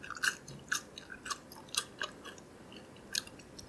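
Close, soft chewing of crispy thin shoestring fries from a plate of carne asada fries, a quiet run of rhythmic crunchy bites about every half second, alone without talk.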